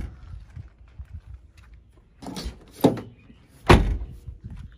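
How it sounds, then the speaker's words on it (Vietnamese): A used 2005 Japanese eight-seat car has its door shut several times, giving three solid thumps close by with a quiet pause between the last two. "cửa em đóng cho các bác mình nghe đúng không ạ?"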